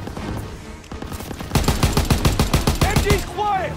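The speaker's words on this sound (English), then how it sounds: "Gotta suppress the machine gun!" Rapid bursts of machine gun fire in Call of Duty: WWII, a dense rhythmic volley of shots that starts sparse and builds into sustained loud automatic fire, with faint voices mixed in.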